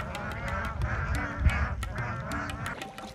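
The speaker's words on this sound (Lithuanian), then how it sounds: "Kokia gausybė visiškai nematytų vandens paukščių." Water birds call on the Ganges in India, a busy chorus of quacking and honking calls repeating in short bursts at a moderate distance with no voices.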